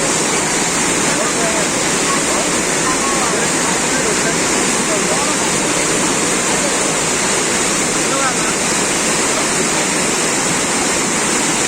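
Floodwater rushing through Fulbari in Butwal, a loud, dense, continuous roar of churning water filling the whole stretch without pause, close by and steady in level.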